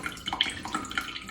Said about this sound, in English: I'm just putting some water in a jug here.